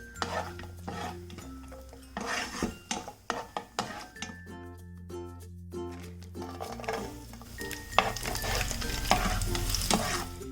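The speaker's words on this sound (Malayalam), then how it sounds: "ഇതേ എണ്ണയിൽ തന്നെയാണ് ഞാൻ കാഷ്നട്ടും കിസ്മിസും വറുത്തെടുക്കുന്നത്" Cashews and raisins fry in oil in a pan, sizzling and bubbling while a spoon stirs and scrapes against metal in short bursts, with occasional clinks; no speech.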